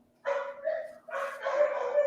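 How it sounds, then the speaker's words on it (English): Dogs bark outdoors in two quick bursts, fairly close and loud, with short yelping barks and no talk over them. "the dogs are flipping out"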